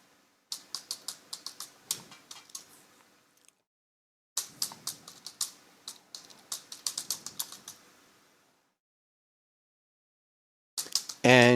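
An email address is typed on a computer keyboard in two quick bursts of crisp key clicks separated by a pause, close and clear, with a short faint voice fragment at the very end.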